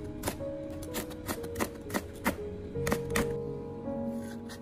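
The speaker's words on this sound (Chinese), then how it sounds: "将小米辣切成圈" A knife slices small chili peppers into rings on a cutting board, about a dozen quick, sharp taps in an uneven rhythm, close and fairly quiet.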